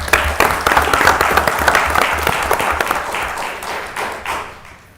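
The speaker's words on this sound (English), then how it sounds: "Let's give our entire staff a round of applause." Staff at a council meeting receive a round of applause: dense, steady clapping from a room of people lasting several seconds, then tapering off toward the end.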